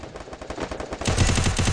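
Rapid automatic gunfire from a first-person shooter video game rattles in quick bursts, growing louder and denser partway through, with no talk over it.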